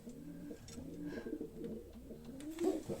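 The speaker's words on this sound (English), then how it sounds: "But a nice pigeon." A Brachys racing pigeon hen coos in low, throaty rolling calls, repeated steadily and close by for about three seconds with no talk.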